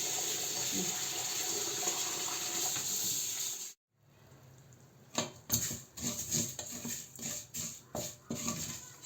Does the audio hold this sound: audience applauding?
no